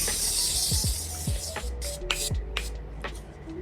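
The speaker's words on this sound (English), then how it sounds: "Going to spritz our face so we can lock in all those powders" A few short spritzes of a Morphe makeup setting spray bottle hiss in quick bursts, close to the microphone, with small handling sounds in between.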